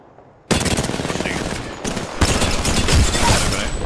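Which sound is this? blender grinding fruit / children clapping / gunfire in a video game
gunfire in a video game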